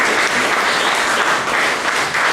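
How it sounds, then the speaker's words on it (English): A loud, dense round of applause from an audience welcoming a man onto a stage, continuous and close for the whole stretch. "Give him a round of applause."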